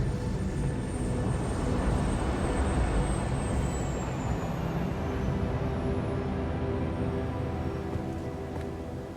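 An airplane roars past in the video game 007 First Light, a broad, loud engine drone with a whine that slowly falls in pitch as the aircraft passes.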